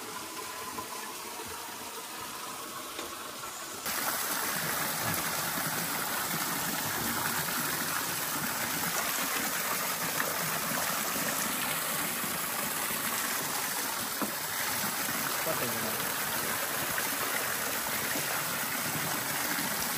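Water runs steadily from a mountain spring tap where drivers fill bottles, a continuous close splashing flow that grows a little louder partway through and carries on without talk.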